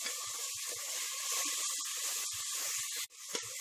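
Ground onion paste frying over a low flame in a pan for mutton paya, giving a steady, fairly loud hiss with scattered soft pops and crackles and a brief drop near the end.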